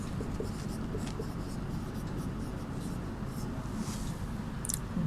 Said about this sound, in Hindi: तो यहाँ पर हम लोग उत्तर 2 का लिखेंगे।